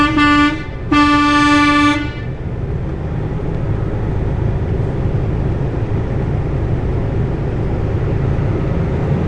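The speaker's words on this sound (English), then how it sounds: "Honk the horn and let them know I'm here." A semi truck's horn honks twice in short bursts, the second longer, then gives way to a steady idling engine and road rumble near a loading dock, with no talking.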